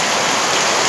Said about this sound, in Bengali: এই দেখো আমাদের এত বৃষ্টি, ঘরে জল হয়ে গেছে।